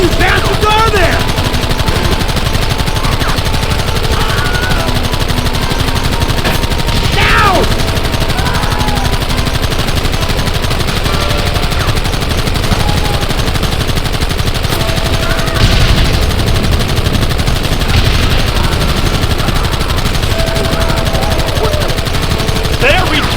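Sustained gunfire from a Red Dead Redemption shootout with savages, steady loud machine-gun-like bursts and scattered shots over a busy battle background, with shouted voices mixed in.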